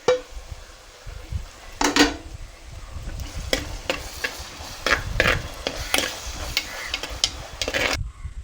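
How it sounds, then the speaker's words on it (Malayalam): A spoon scrapes and clinks against a frying pan as tomato, curry leaves and salt are stirred, giving a run of irregular metallic taps over a faint sizzle. No one speaks. "എന്നിട്ട് അതും കുറച്ച് വേപ്പിലയും ആവശ്യത്തിന് ഉപ്പും കൂടെ ഇട്ടിട്ട് നന്നായിട്ട് മിക്സ് ചെയ്യണം"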